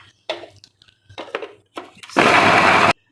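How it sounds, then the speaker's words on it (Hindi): Electric grinder blending garlic, ginger and green chilies, a loud steady whirring burst lasting under a second after several short scraping and tapping sounds of the jar being handled. "ये लहसुन, अदरक, ये हरी मिर्चें। ठीक है। ये पहले मैं इसको ग्राइंड कर लूँ।"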